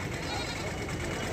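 A goat bleating at a goat market in Dera Ghazi Khan, loud and close, one continuous cry over a busy background with people talking.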